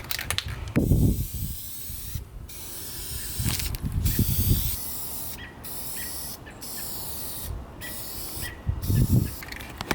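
Hissing bursts from a spray can or spray gun painting a car wing, several separate sprays a few seconds apart with short gaps between, close and fairly loud.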